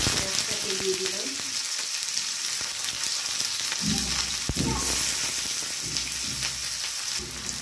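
Sliced onion drops into hot oil already spitting with cumin seeds, giving a steady close sizzle with a few sharper crackles and a brief spoon scrape, continuous throughout.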